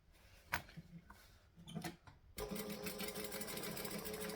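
A sewing machine joins the lining sides of a bag with a plain joining stitch. A few soft handling taps come first, then the machine starts and runs at a steady, fast, close hum to the end.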